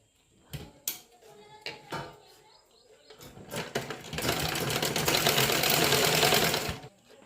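Sewing machine stitching an embroidered blouse, starting with a few short taps and bursts, then running in a loud steady whir for the last few seconds, close by with no talk.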